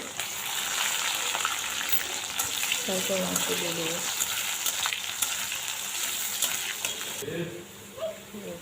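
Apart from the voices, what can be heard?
chopped onion frying in a pan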